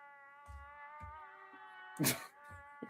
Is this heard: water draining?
no